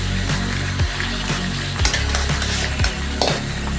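Beef stir-fried bhuna style in a pan, sizzling and frying continuously with several scraping stirs of the spatula at intervals, close up and without speech.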